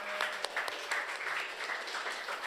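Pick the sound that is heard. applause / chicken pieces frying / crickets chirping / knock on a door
applause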